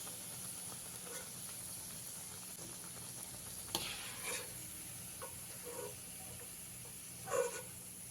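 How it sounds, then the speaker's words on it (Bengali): A soft, constant hiss and sizzle of bread frying in a pan, with a few brief scrapes and taps, no voices. "এইভাবে বাদ বাকি টোস্টগুলো আমি ভেজে নেব"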